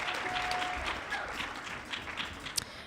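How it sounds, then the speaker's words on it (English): An audience at a high school chorus concert applauds a pianist. The clapping is fairly faint and spread out, as if from across a hall, and lasts a few seconds. "Let's give her a round of applause"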